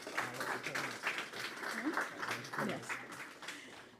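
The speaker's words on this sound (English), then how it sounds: "so let's give them a round of applause." Audience at a robotics camp exhibition applauds, steady moderately loud clapping from a crowd lasting a few seconds, with a brief voice heard amid the clapping.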